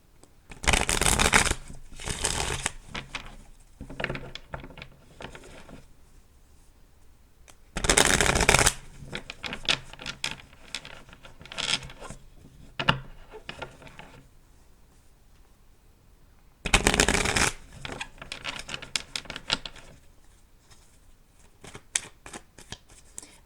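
Tarot cards are shuffled in three loud, rapid riffling bursts separated by softer handling, tapping and sliding of the deck, with no voice heard.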